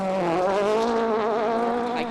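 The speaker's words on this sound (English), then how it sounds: "We can hear his Fiesta crashing over the rocks, covering the stage." A Ford Fiesta WRC rally car on a rocky stage of the 2011 Jordan Rally, its engine a close, steady buzzing drone with a wavering pitch, heard alone with no talk.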